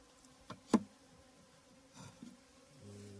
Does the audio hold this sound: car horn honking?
no